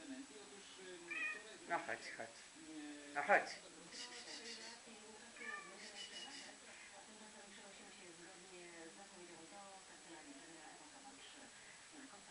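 A small kitten meows repeatedly, with several clear close meows early on and fainter ones later, while a person softly talks and calls to it.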